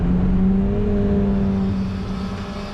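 Ford Fiesta ST race cars on a circuit during a six-hour endurance race at Mondello, loud engine drone with a rising whine as cars pass close in quick succession, gradually receding.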